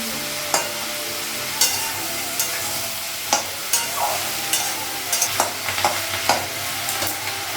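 A fish head and onions fry in a pan with a steady sizzle, broken by repeated scraping stirs of a utensil against the metal at an irregular rhythm.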